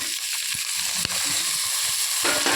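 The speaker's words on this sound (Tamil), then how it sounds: "அடுத்தது வெங்காயம் தக்காளி போட்டு விட்டுடலாங்க" Onion and tomato hit a hot pan and fry with a steady close sizzle, broken by a few sharp scrapes and clicks of stirring, with no one talking.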